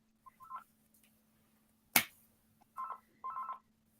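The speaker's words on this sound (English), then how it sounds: "Somebody's phone's going off." A phone rings during a live football chat show, short electronic tone bursts near 1 kHz in an on-off pattern with a sharp click in the middle, fairly faint against a steady background hum.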